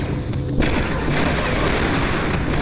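Demolition explosion on Kashyyyk in Star Wars: Republic Commando, a loud broadband boom that rolls on as a sustained rumble for the whole stretch, with no voices over it.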